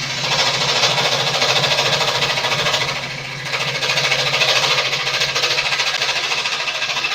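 A scroll saw cuts through wood, its blade chattering in a steady, rapid reciprocating buzz, loud and close, with a brief dip in the middle before it resumes.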